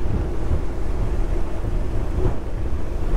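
J Craft Torpedo RS motor boat cruising at about 36 knots, a loud steady roar of engine, rushing water and wind buffeting the microphone, heard close with no talk.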